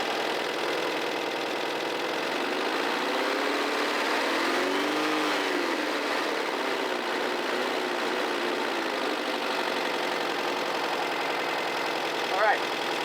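1981 VW Vanagon engine running during a tune-up and timing check, a steady mid-pitched drone that swells briefly as it revs up and then settles back, continuous and close throughout.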